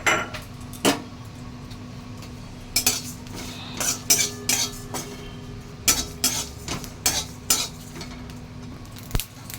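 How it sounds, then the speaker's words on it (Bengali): Cumin, fennel seeds and two dried red chillies dry-roasting in a kadai with no oil, metal spoon scraping and clinking against the pan in irregular strikes over a low steady hiss, no talk. "কড়াইতে জিরে, মৌরি আর শুকনো লঙ্কা দুটো, আমি এগুলো একটু ভেজে নেব শুকনো খোলা"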